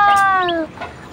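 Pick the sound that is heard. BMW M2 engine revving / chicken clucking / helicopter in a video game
chicken clucking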